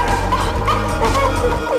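A dachshund barks and yips in a rapid run of short, sharp, close-up barks with a few whiny tones, filling the whole moment without pause.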